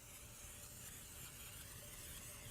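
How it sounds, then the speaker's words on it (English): Cooking spray hisses continuously as it coats a 9x13 casserole dish, one steady quiet spray lasting the full couple of seconds with no speech over it. "you really want to spray this well with cooking spray"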